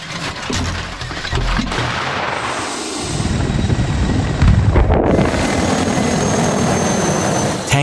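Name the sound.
military bombers and tanks in Zapad 2025 exercise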